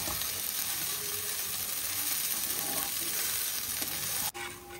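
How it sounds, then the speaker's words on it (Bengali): Pithe frying in ghee in a pan for a Makar Sankranti sweet, a steady broadband sizzle running continuously and close, with a brief clink near the end. "এই যে ঘিয়ে ভাজা হচ্ছে"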